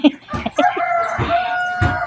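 A chicken clucks and squawks loudly up close, with several sharp calls and a drawn-out crowing note.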